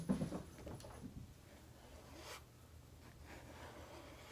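A scraper drags gel art ink across a cotton handkerchief in a few soft, quiet strokes, the faint rasp strongest at the start and fading into low room hush.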